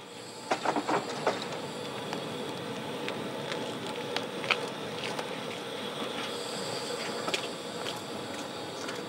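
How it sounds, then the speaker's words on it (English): Steam locomotive number 1574, just coaled and watered, moves slowly into the engine shed, with a continuous hiss of steam and scattered clanks and knocks, moderately near and without talk. "Number 1574 has been coaled and watered after working the last afternoon trip to Chemnitz, and is first to be put away in the shed."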